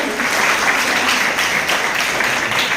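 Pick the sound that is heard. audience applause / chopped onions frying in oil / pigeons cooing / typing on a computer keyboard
audience applause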